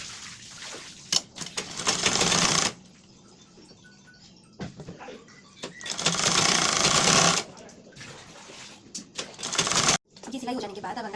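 Three bursts of fast sewing-machine stitching run along a lined blouse's side seam, each lasting one to two seconds, close and loud, with a voice talking and cloth handling in the gaps.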